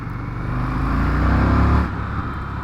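A 2020 Indian FTR1200 Carbon motorcycle rolls on in third gear from 30 to 40 mph, its loud, close engine droning and climbing steadily before easing off abruptly near the end.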